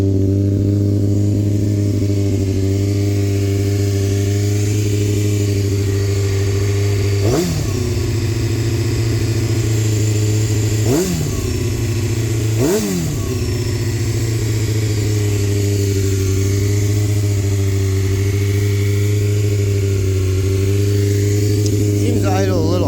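A 2002 Honda CBR600 F4i motorcycle engine idles steadily and loudly up close, its low rumble continuous, with a few brief throttle blips partway through.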